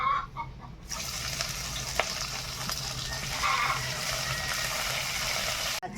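Chopped onions frying in hot mustard oil with whole garam masala and dried red chillies, a steady close sizzle that starts abruptly after a quiet first second and carries on evenly, with no talking.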